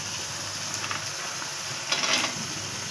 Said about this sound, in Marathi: शेंगदाणे तेलावर थोडे तळून घ्यायचे।